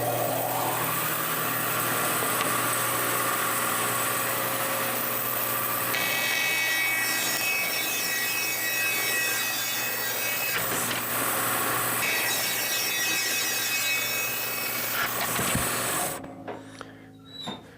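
Walnut lumber is sawn into strips with a power saw, a sustained loud whining cut with shifting pitch over several seconds that stops abruptly and spins down near the end, with no talk.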